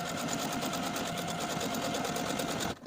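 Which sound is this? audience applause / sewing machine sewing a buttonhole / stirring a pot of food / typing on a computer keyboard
sewing machine sewing a buttonhole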